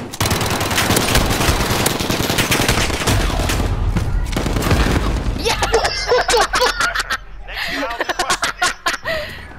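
A loud explosion bursts in a video game amid a chaotic run of rapid gunfire and booming blasts, with excited players talking over the din as the firing crackles on in short bursts.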